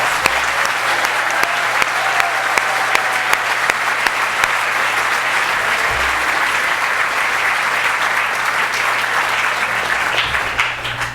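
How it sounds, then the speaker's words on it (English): An award ceremony audience applauding faculty advisors, dense sustained clapping from a large crowd that carries steadily throughout. "Let's give all of our faculty a huge round of applause."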